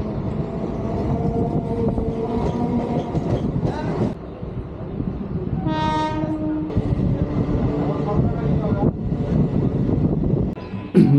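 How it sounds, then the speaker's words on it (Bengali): A Kolkata local train runs toward Bidhannagar station with a loud steady rumble and rattle of the carriages, and a clear horn blast partway through. "লোকাল ট্রেনে উঠে পড়েছি"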